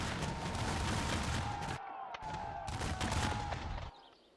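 Distant cannon and musket fire in a Revolutionary War battle at the Second Battle of Saratoga: dense rolling volleys of gunfire and booms, fairly faint and far off, breaking briefly before resuming and then fading out.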